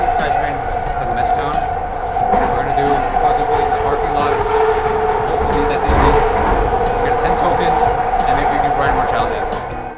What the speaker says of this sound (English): We're going to take the sky train.